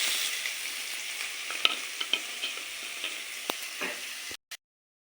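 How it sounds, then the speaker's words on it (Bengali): Chopped onions with whole dried chillies and bay leaf sizzling in hot oil, a bright, steady hiss broken by a few stirring clicks, close and fairly quiet, cutting off abruptly near the end. "এই কুচানো পেঁয়াজগুলোকে দিয়ে দেব।"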